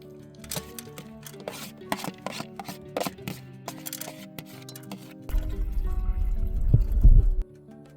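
A knife chops ingredients for dal in a cold mountain kitchen near Badrinath, with crisp irregular strokes for several seconds, followed by a louder low rumbling wash toward the end.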